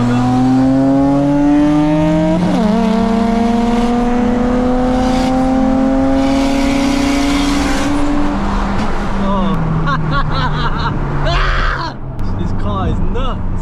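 Loud interior engine roar from a 500 bhp modified Honda Civic FN2 launching in a street race against a Lexus IS200, revs sweeping up through several gear changes with brief dips, while a voice shouts excitedly over it.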